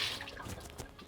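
Water poured out of a Thermomix carafe in a kitchen while making keto ramen soup, a short close liquid drip and trickle with faint splashing.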